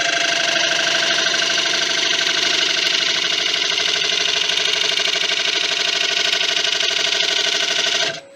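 An oak bowl, Japanese style, spins on a wood lathe while a negative rake scraper cuts it, giving a loud, steady, continuous whirring scrape with a ringing tone that holds for about eight seconds and then stops abruptly.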